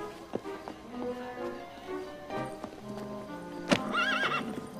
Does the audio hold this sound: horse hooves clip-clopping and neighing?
yes